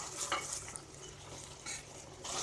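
Ginger garlic paste sautéed and stirred in a pan for cauliflower masala pulao, a soft background sizzle with a few light scrapes and clinks of the spoon, fairly quiet and close.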